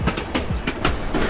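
Sleeper train rolling on rails, with steady rhythmic clickety-clack wheel beats over a continuous rumble, heard close from on board.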